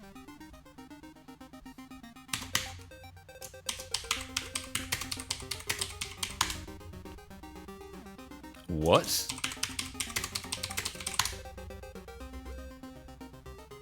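Fingers type a password on a computer keyboard in short bursts of tapping clicks with pauses between, close and fairly soft, while a person speaks briefly over it.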